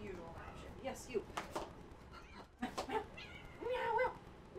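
A nearby cat meows several times in short, uneven calls over steady background noise.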